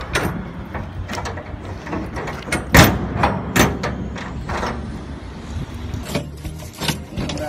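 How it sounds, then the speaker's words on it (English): Steel doors of a drayage shipping container swing shut one after another, locking rods and latches clanking and banging in several sharp metallic hits over a noisy outdoor yard. "And closing, same again, the right hand door closes in the left hand rod."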